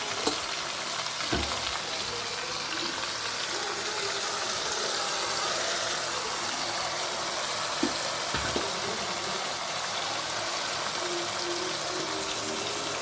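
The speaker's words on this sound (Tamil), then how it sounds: "ஃப்ரெண்ட்ஸ் நல்லா கிளறி விட்டாச்சு பாருங்க" A quail gravy is stirred in a frying pan, giving a loud continuous bubbling sizzle with occasional scraping strokes throughout, and no one talks.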